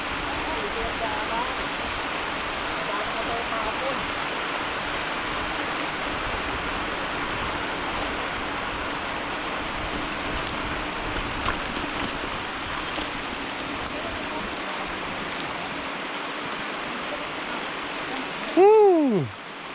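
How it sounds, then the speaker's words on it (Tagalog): Steady heavy rain pours in a dense, even hiss for a long stretch on a mountain bike trail in Phuket, Thailand, with a brief whooping voice near the end. "Sarap ng ulan."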